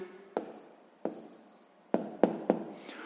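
A pen writes a maths answer on paper in a few short strokes and taps, close and quiet, separated by brief pauses.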